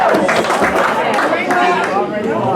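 Clapping from the audience at a Boston North End public meeting over a proposed Starbucks at Cross and Hanover Streets, a steady loud patter mixed with crowd chatter and voices.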